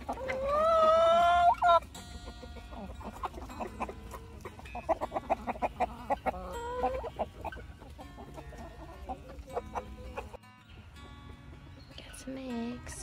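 Backyard hens cluck and squawk in irregular bursts close by. A loud crowing-like call opens the clip, and faint rustling and other farmyard noise runs underneath.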